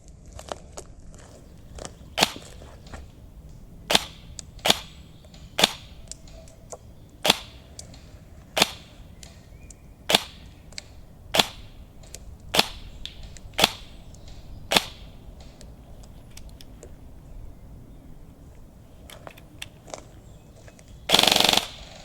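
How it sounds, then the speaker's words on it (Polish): A G&G SRB airsoft sniper rifle fires at a target 70 metres away outdoors, giving sharp single cracks spaced a second or two apart, around fifteen shots over a quiet background, followed by a brief louder burst at the end. "70 metrów Bartek strzela"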